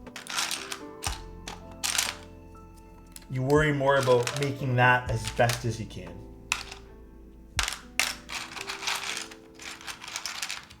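Keys clatter on a gasket-mount Zoom98 mechanical keyboard in quick bursts of soft, foamy clicks, with someone talking over the typing through the middle.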